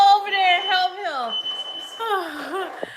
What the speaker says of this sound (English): Done set the fire alarm off. Done set the done set the smoke detector off.